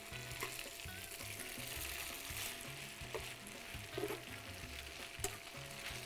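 Noodles and vegetables stir-frying in a wok, a continuous loud sizzle with scraping and tossing sounds, a few sharper clinks near the end, no voices.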